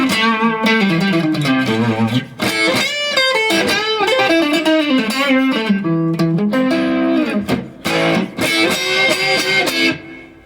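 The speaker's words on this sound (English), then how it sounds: "So let's hear the blues driver." Electric guitar on a Boss ME-80 multi-effects unit with its blues driver overdrive engaged, playing loud, sustained, gritty chords and bent lead notes continuously, with brief dips between phrases.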